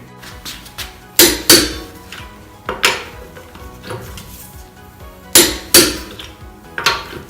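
Lug nuts on a VW MK7 Golf wheel tightened with a torque wrench to 88.5 foot-pounds: sharp metallic clicks and clanks in separate bursts, close and fairly loud, with quiet gaps between.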